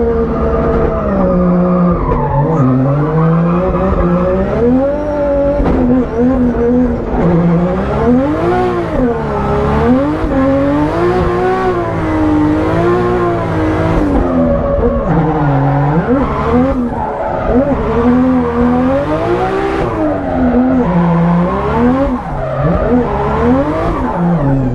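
A drift car at a practice event skids and revs hard, its engine rising and falling continuously with wavering pitch as the tires squeal through slides, loud and close throughout.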